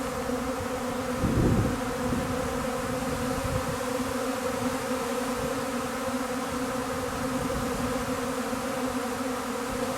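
Honeybee swarm settling outdoors, its thick continuous buzz of countless wings filling the air nearby, with a brief louder rustle near the start.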